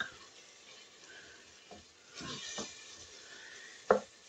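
Spaghetti sauce being stirred in a pot gives a faint, soft scraping and bubbling sizzle, with a few quiet clinks and one sharper knock of the spoon near the end.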